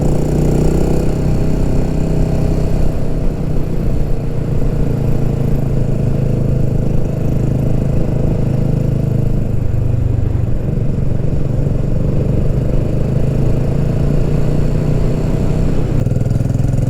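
Motorcycles ride along a road in Portugal, a loud continuous engine drone with rushing wind, holding steady throughout with no speech.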